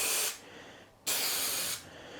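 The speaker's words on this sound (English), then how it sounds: "So we're going to put a little bit of spray in the middle" Adhesive glue sprays from an aerosol can in two long hissing bursts with a short pause between, close and steady, then a brief third burst starts at the end.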